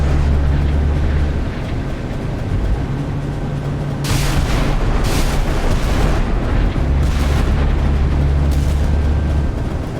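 Iowa battleship gun turrets firing at a Zumwalt destroyer in the naval video game Sea Power, a few heavy booming blasts over a constant low engine and sea rumble.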